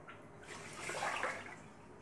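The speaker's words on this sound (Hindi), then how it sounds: "अब इसमें ऐसे 2 और 1 डोंगा इसमें पानी डाल रही हूँ मैं।" Water poured into a pot of rice in a home kitchen, a steady splashing stream that swells in the middle and then eases off.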